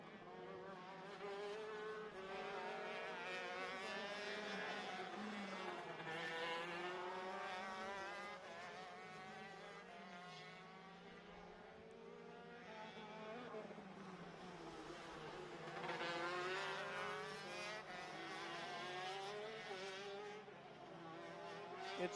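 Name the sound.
shifter karts racing through the Gidley S's at ROK Sonoma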